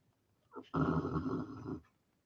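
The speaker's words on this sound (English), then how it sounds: "my dog is snoring." A dog snores in one long, rumbling breath, low and close, with a short softer snort just before it; otherwise quiet.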